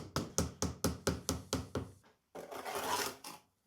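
Close, evenly spaced knocking on a concrete tile mould to free air bubbles, around nine firm raps in quick succession. After a brief silence comes a longer, rough scraping or rubbing noise.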